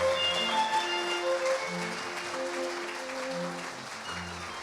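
Audience clapping opens a rural agricultural award ceremony in Korea, many hands applauding steadily at moderate loudness while ceremonial music with held tones plays underneath, easing off slightly toward the end.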